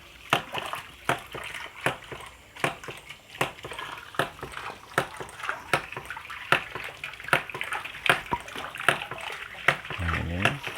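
Hydraulic ram pump with water spilling from its waste valve, heard as a steady splashing flow punctuated by regular sharp clacks from the valve roughly every second, close and moderately loud.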